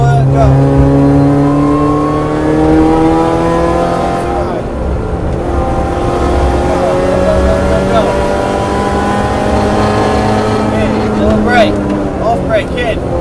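A Mini Challenge Clubsport race car at full throttle during testing at Cadwell Park, a loud in-car engine note rising steadily through the revs with gear changes, a driver talking over it.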